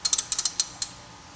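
Ratchet wrench tightening a bolt on a wheel hub during a wheel bearing replacement on a W212 E63 AMG: a quick series of about eight crisp, close clicking ratchet bursts in uneven groups, then quiet.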